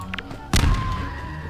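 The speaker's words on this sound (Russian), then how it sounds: "Давайте кинем гранату, все-таки активируем их каким-то образом." A grenade detonates in Garry's Mod, a sudden loud, close blast with a broad booming thud that rings out and decays slowly. A few faint game noises come just before it.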